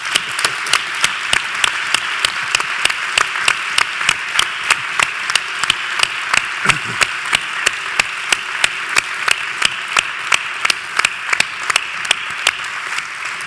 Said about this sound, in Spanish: Un aplauso y un abrazo muy grande.